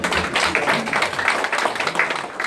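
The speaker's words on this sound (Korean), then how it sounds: "여기는 진짜 박수 좀 크게 한번 주십시오." A crowd at a county governor's campaign office opening in Yesan applauding loudly, a dense, steady rush of many hands clapping close by.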